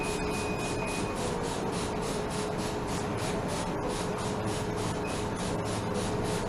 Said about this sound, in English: So I'm going to go ahead and spray down.